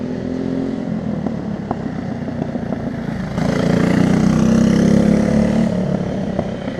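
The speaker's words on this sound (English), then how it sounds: "He's got a brand new go-kart." A go-kart engine buzzes steadily at a distance on a race track, then grows louder and rougher partway through as it revs up.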